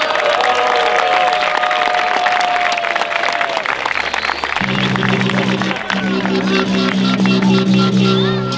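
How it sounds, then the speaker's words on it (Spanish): Audience at a Spanish-language rap battle tournament claps and cheers loudly throughout, with shouts over the crowd and a thumping, tonal music beat coming in partway through. "¡Fuerte el aplauso!"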